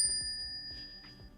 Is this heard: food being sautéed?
no